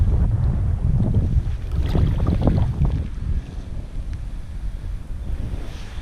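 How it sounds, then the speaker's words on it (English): Strong wind buffets the microphone while kayaking on open water, a heavy rumbling roar that gusts for a few seconds and then eases to a softer rush. "Out here the wind's really blowing."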